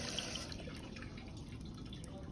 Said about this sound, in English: I'm going to fill it up again about halfway.